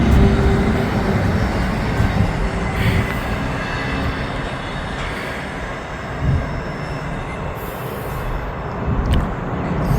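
CSX freight train rolls past close by, a loud continuous rumble and clatter of wheels over the rails with faint squeals, steady throughout, with no talking.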